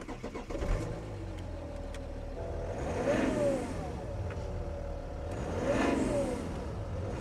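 A 3-litre BMW engine with 115,000 miles runs near at a car auction, with a steady idle and two smooth revs rising and falling, and no voices.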